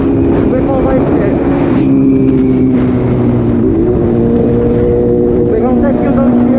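Suzuki GSX-S750 motorcycle with an SC-Project exhaust and the dB killer removed, a loud, steady, deep engine drone with a throaty hum that holds throughout, recorded close while riding with wind noise.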